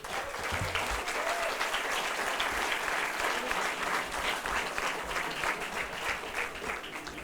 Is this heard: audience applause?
yes